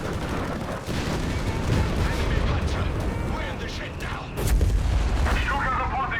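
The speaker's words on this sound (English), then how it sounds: "Mortar raining down death here." A mortar barrage in Company of Heroes 3 brings repeated booming explosions and scattered gunfire in a busy battle din, with a heavier blast near the end and a voice talking over parts of it.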